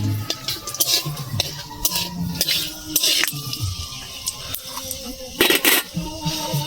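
Panch phoron spices with chillies stirred in a hot pan for Bengali tomato pickle, a busy run of scraping, clinking and sizzling with sharp spoon taps against the pan throughout.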